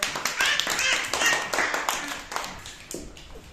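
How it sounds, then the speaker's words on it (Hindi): Children clap their hands together in a classroom session, a dense run of close, fairly loud claps that thins toward the end, with an adult voice talking over them. "इनके लिए ताली बजाओ"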